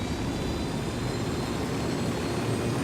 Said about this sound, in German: Wo ist denn mein Hubschrauber?